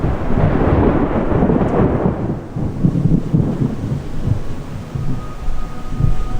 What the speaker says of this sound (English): definitely starting to thunder. It's getting a real windy.